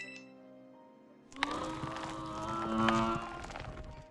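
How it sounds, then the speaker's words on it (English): A cow Pokémon in the video game Pokémon Scarlet lets out a cry: a drawn-out, low, moo-like bellow that starts abruptly after near silence. "Yeah, it's cool cow Pokemon cry."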